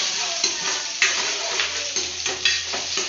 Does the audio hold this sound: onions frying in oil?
yes